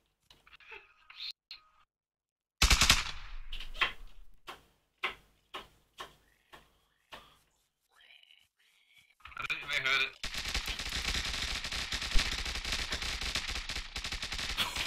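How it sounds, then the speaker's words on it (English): A gunshot fired to start a C4 arena match rings out sharply, followed by a rapid string of separate loud reports, then a burst of sustained dense gunfire. Voices whisper faintly beforehand. "When I fire my gun,"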